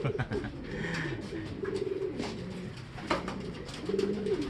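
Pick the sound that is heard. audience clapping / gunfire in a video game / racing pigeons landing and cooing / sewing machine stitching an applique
racing pigeons landing and cooing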